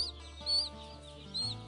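A broiler farm flock of chickens gives soft, scattered clucks and short calls under a steady low hum of farm ventilation, quiet and close.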